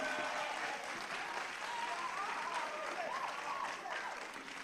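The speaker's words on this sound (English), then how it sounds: "they deserve a round of applause" An audience applauds at a national investment quiz competition final, a dense, steady wash of clapping with faint crowd murmur and a brief voice underneath.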